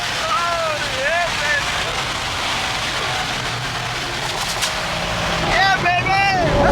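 A Ferrari 812 Superfast V12, tuned to 900 horsepower and fitted with a Ryft exhaust, accelerates hard. A loud, steady engine roar heard from inside the car rises through rising and falling tonal sweeps.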